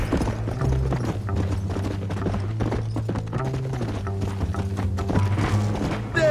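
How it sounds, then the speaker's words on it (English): Horse hooves clip-clop steadily in Red Dead Redemption, a rhythmic ride sitting under a continuous music score and game ambience throughout. "All you done is get on the back of this horse, my friend"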